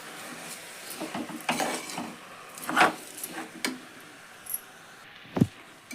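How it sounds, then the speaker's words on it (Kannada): Rice being mixed into a spiced tempering for cabbage pulao, heard as a spoon scraping and knocking against a metal pan in irregular strokes, with faint sizzling beneath, close and moderately loud. "ಅಕ್ಕಿ ಹಾಕಿ ಮಿಕ್ಸ್ ಮಾಡೋಣ್ರಿ ಇದನ್ನೆಲ್ಲ ಎಲ್ಲ ಮಿಕ್ಸ್ ಮಾಡ್ಬೇಕು"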